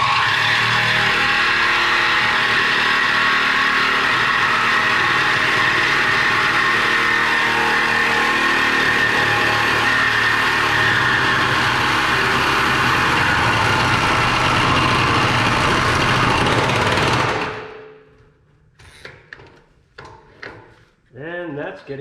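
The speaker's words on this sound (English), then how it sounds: "let's cut it in the middle with another sawzall" Reciprocating saw cutting through the frame of an F350 truck, a loud, harsh, continuous buzzing rasp for about seventeen seconds that stops abruptly, followed by quieter clanks and brief voices.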